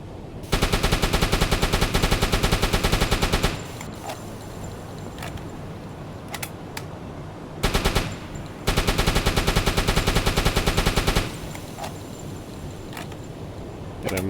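Automatic gunfire in the submarine game UBOAT rattles in two long, loud, rapid bursts separated by quieter stretches of ambient rumble with a few isolated shots.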